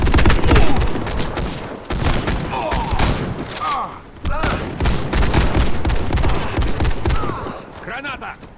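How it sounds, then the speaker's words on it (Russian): A video game battle where a grenade blast and bursts of rapid gunfire, booms and ricochets come in dense, loud waves, with voices shouting over the fighting. "Осторожно, граната!"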